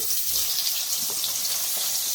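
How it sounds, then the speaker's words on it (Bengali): Continuous bright sizzling of potatoes frying over low heat in oil left from frying rohu fish, a constant crackling hiss at close range with no voices. "আলুটাও আমি হালকা লাল করেই ভেজে নেব।"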